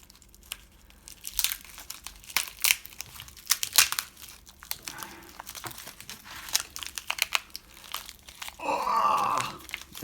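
A PCB's packaging is cut open up close, with crinkling, crunching and tearing of plastic and paper in irregular bursts and a brief rougher rip near the end, no voices heard.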